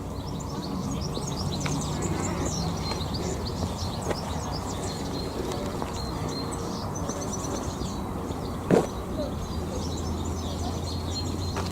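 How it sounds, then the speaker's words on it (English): Goldfinches chirp on an outdoor tree-lined road, small high calls scattered over a steady background rumble, with one louder knock near the end. "I think they're goldfinches."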